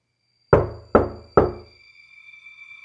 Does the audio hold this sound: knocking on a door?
yes